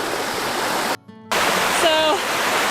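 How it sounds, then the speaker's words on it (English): A waterfall on wild Alaskan land pours with a steady, loud, full rushing roar that is cut off briefly. A faint voice is heard over the water. "So that's the waterfall that we were above earlier."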